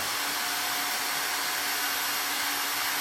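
A Dyson HushJet Mini Cool personal fan whirs at maximum speed, a constant airy roar with a steady hum underneath and no pauses.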